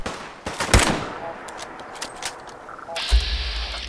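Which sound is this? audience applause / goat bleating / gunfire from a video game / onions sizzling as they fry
gunfire from a video game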